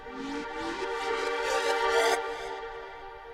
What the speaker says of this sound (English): Just got some tonal reverse effects here that sound like this.